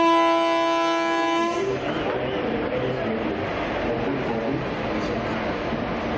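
A Vistadome coach train runs on the Araku line near Visakhapatnam. A long, loud horn blast gives way to the steady rumble and rattle of the moving coaches.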